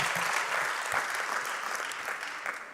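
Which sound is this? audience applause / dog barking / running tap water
audience applause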